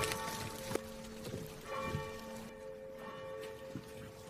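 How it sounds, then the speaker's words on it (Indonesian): A village church bell rings at midday, with several separate struck tones sounding fairly faint amid a soft, rain-like background hiss. "tiba-tiba terdengar bunyi bel dari gereja di tengah hari"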